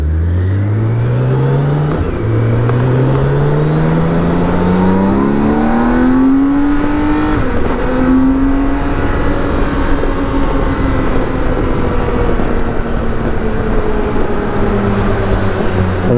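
A BMW K1600 GTL motorcycle's engine climbs steadily through the gears on the Autobahn, the revs rising and shifting under constant loud wind roar, close and continuous throughout.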